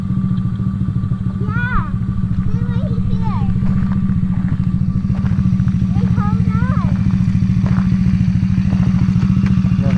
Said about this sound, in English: You love your new four-wheeler?